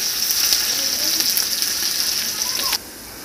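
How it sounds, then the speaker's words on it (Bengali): Chopped onion frying in oil with a whole bay leaf and a dried red chilli, a steady close sizzle with light crackle and occasional stirring scrapes, cutting off sharply near the end. "পেঁয়াজগুলো আমি লাল করে ভেজে নেব"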